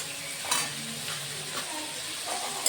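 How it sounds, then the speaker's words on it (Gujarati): Chopped capsicum and finely cut green onion stir-fried for pasta, a brief steady sizzle with a few sharp stirring scrapes, close and even, no speech. "પછી નાખીશું કેપ્સિકમ, પછી નાખીશું લીલી ડુંગળી કટ કરેલી છે એ ઝીણી ઝીણી।"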